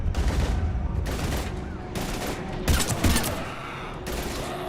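Heavy, sustained gunfire in Mass Effect 3 Legendary Edition, dense overlapping rifle bursts that keep going loud and close, with a few stronger volleys.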